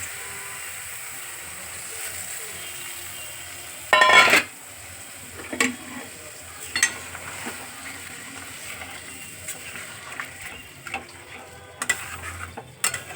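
Paneer soaked in coconut milk going into a wok, a sudden loud sizzle as it hits the pan, followed by soft frying and scattered scrapes and clinks of a utensil stirring.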